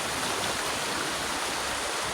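River water flows in a constant, dense rushing wash, loud and close, with nothing else audible over it.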